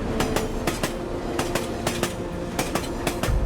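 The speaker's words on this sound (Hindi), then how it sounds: "भारतीय रेल" Indian Railways train rolling along the tracks, with steady rumble and a rhythmic clickety-clack of wheels over rail joints repeating throughout, loud and close with no voices.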